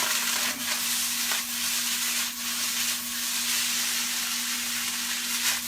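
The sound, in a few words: stirring hibachi fried rice sizzling in pan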